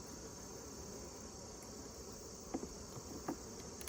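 Honey bees buzz steadily around a hive while a beekeeper checks honey supers, a faint continuous insect drone with a couple of brief soft knocks near the end.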